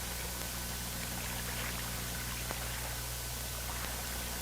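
Clear water pours steadily to wash mud out of an M16 rifle barrel, chamber and receiver, a constant faint rushing trickle over a low hum.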